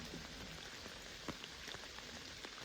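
Steady rain falls during a hunt, making a dense, even hiss with scattered drops ticking close by, quiet overall and with no voices.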